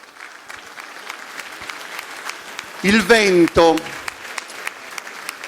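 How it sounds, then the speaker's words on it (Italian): Audience applause for a choir at a solidarity concert in Tonara, Sardinia: a steady wash of crowd clapping throughout, briefly overlaid by a loud voice near the middle. "Un bel applauso per gli amici di Seulo."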